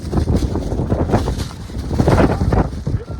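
Strong wind blowing in the open courtyard of Masjid an-Nabawi in Madina, a steady heavy roar and buffeting against the microphone that fills the whole stretch with no pauses.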